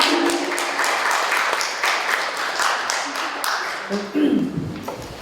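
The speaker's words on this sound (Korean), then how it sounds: "큰 박수 부탁드리겠습니다." Audience applause at a Korean community forum, steady clapping from a seated crowd that holds for several seconds and then tapers off.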